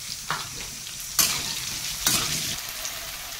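Potatoes frying in a pan with a bay leaf, salt and turmeric, a steady soft sizzle broken by a few sharp scraping stirs near the mic.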